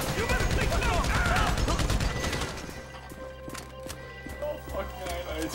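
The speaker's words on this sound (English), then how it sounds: "How bad they shoot you, Frank?" Dense rapid gunfire in a shooter video game, loud continuous volleys for a couple of seconds that give way to scattered lighter shots, with someone shouting over it.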